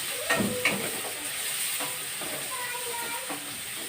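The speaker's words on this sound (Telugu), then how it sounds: "ఈ ఒక ఉల్లిపాయ చిన్న ముక్కలు చేశాను కదా, అది కూడా వేసేస్తాను. వేసుకొని దీన్ని కూడా బాగా వేగనిద్దాం." Chopped onion sizzles and fries in a pan for a shrimp curry, with steady hiss and a few stirring scrapes close by, no talk.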